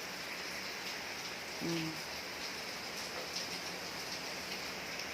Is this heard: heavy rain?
yes